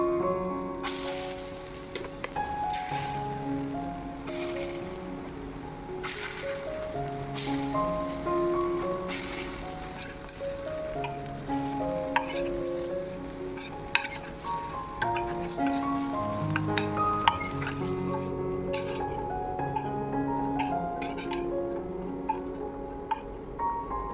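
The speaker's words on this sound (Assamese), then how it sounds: "তাৰপিছতে পটল ফ্ৰাই কৰি আছোঁ" Pointed gourd (potol) fries in oil in a wok during a home cooking session, a steady close sizzle mixed with clinks and ticks of utensils, with background music running throughout.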